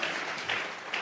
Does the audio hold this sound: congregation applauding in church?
yes